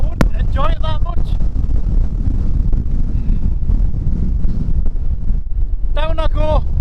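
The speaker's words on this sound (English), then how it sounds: "it's just too windy to camp up here" Strong wind buffets a hilltop wild camp in the Simonside Hills, Northumberland, a constant loud roar pressing against the microphone, with brief voices speaking near the start and end.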